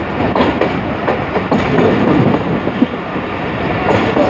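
Steady rumble of the Allama Iqbal Express rolling on rails as it stops at a railway station, wheels clacking over joints with occasional squeals, close and continuous without voices.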